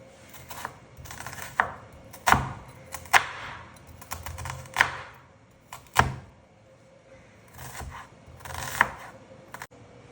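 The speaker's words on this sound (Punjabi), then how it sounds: "ਪਿਆਜ਼ ਤੇ ਟਮਾਟਰ ਨੂੰ ਅਸੀਂ ਬਰੀਕ ਚੌਪ ਕਰ ਲੈਣੇ" A knife chops onion and tomato finely on a cutting board in irregular bursts of sharp thuds and taps, close by, with brief pauses between strokes.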